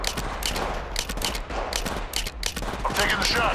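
Apex Legends gunfire in rapid bursts of sharp shots, several quick volleys close and loud over a busy game background.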